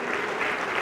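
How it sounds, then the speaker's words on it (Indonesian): Congregation applause during a charismatic church worship service, a steady dense wash of many hands clapping together at moderate distance, continuous with no clear breaks. "Terus beri tepuk tangan saudara"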